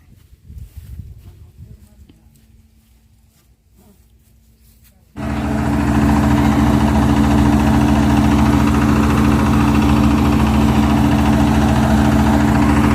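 A tractor engine suddenly starts up loudly after quieter rustling, then runs at a constant low rumble with strong droning hum.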